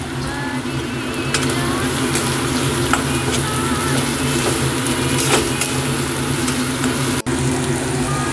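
Ginger and onion sizzling steadily in a pan as green chilli paste goes in, a constant close frying hiss with faint stirring scrapes throughout.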